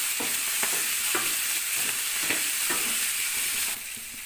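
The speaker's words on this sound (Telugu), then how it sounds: "కాలీఫ్లవర్ కాడలు వేసుకుందాం. ఆయిల్లో పోపుల్లో మగ్గించుకుందామండి, పొగుతాయి." Cauliflower stalks frying in hot oil with tempering spices, a continuous sizzle broken by a regular series of stirring scrapes and clacks, fairly close and with no talking.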